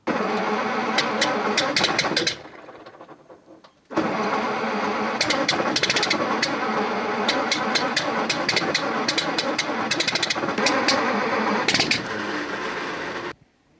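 An old car engine cranks in two long, loud bursts with a short pause between, turning over steadily but never catching.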